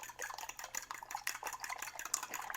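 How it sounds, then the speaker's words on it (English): Eggs with sausage being scrambled in a pan, with rapid scraping and stirring clicks of a utensil against the pan over a soft sizzle, steady and close. "We're going to scramble these eggs."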